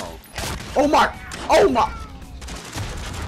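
Gunfire in a first-person shooter during a run of six rapid headshots, several sharp broadband bursts clustered together, loud and close, mixed with a player's excited exclamations.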